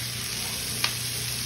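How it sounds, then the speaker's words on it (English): Chopped mushrooms and onion sautéing together in a skillet, a constant bright hiss of frying with one brief clack partway through, close and steady without speech. "I'm gonna dump my chopped mushroom right on in there with the onion. Saute those a little bit."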